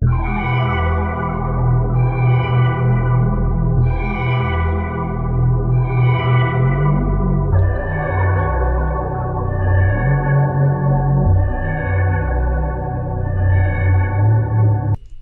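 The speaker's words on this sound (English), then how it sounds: "I added this little sound effect. Just like trickling down, something like that." A dark produced music sample loops with a reverb-soaked melodic pattern and a trickling sound effect layered over sustained low tones, loud and continuous with no talking.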